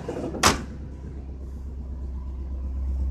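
Vortec 454 V8 in an old, dirty work truck idling slightly rough: a steady low rumble holds throughout after one brief sharp knock near the start, with no talking.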